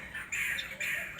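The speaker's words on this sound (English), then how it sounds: "I got some birds tweeting away joining me." Birds calling near Kasumai beach in the Gambia: two bright, fairly faint bursts of chirping with a short gap between them, with no voices.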